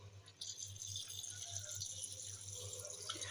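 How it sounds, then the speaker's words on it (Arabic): Tap water pouring into a pot for cooking fava beans, a soft steady splashing stream under a low electrical hum, faint and continuous. "عادي ميه من الحنفيه عادي."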